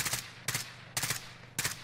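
Gunfire in a video game: four sharp, evenly spaced bursts of shots roughly half a second apart, loud and close, with no talking.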